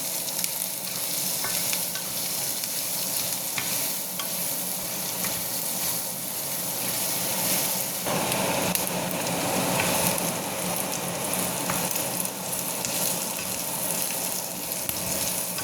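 Garlic fries in a pan with a steady, loud, close sizzle that runs throughout, with stirring scrapes mixed in.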